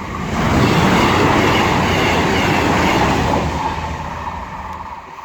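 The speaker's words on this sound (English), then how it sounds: "gonna see a cross country HST or Voyager speeding past very shortly" A CrossCountry HST or Voyager passenger train rushes past a level crossing at Killingworth, a loud, close roaring whoosh of wheels and air that swells quickly and fades as it recedes.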